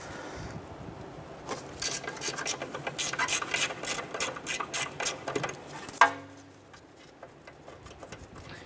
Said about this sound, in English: Using a 12 millimeter socket, let's go ahead and loosen and remove this bolt here.